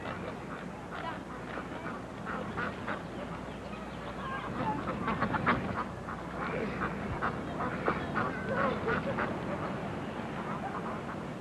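Domestic birds, likely ducks or geese, give a busy stretch of quacks and honks at moderate distance in an old movie scene, the calls overlapping irregularly and steady over low background noise.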